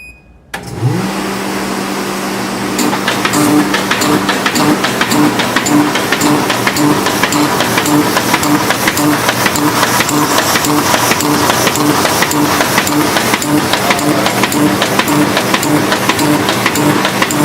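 A Baum 714XA folding machine with an extended feed table runs 25.5-inch paper sheets into letter folds, starting up after a brief quiet moment and then whirring continuously with a rapid, regular clatter of sheets passing through.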